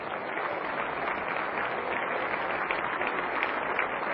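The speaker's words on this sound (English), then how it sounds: "I think everybody in the house ought to clap their hands to the Lord." A church congregation claps hands together in a sustained, dense wash of clapping that stays steady and fairly loud for the whole stretch, with no voices standing out.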